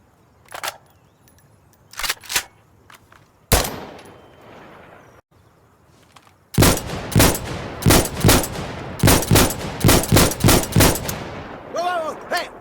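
Gunfire from the video game Insurgency Sandstorm: scattered loud single shots with mechanical clicks in the first half, then a dense run of rapid repeated shots, and a brief metallic ringing rattle at the end.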